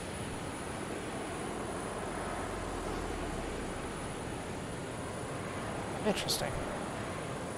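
Aircraft engine at full power on a runway in a video game, a steady broad roar throughout at moderate level, with a brief whistling blip near the end and a single spoken word over it.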